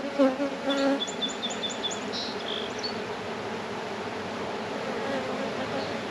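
A honey bee swarm hums steadily as the bees file back down into the hive, a close, continuous buzz with a few bird chirps early on.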